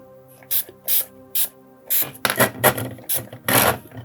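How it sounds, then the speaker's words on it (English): A spray bottle of water spritzes models in a series of short, sharp hissing bursts, spaced at first and then quicker, close to the listener. "we've got some water in a spray"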